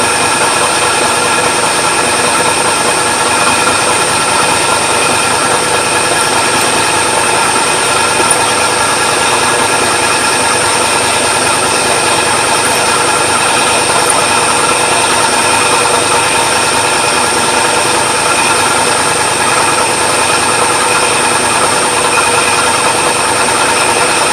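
A milling machine reams a hole in a copper pipe clamp at 1,000 revs, giving a steady, loud mechanical whine and hum that runs unbroken and close throughout with no talking.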